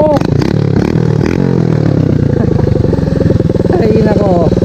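Motorcycle engine running with its exhaust pipe fallen off during an extreme trail ride, a loud, raw, rapid pulsing idle close up with slight revving and clatter throughout.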